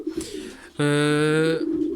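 Homing pigeon in a breeding loft, sitting on two fertilised eggs, gives a close, steady droning coo that swells for under a second and trails off, with softer cooing murmurs before and after.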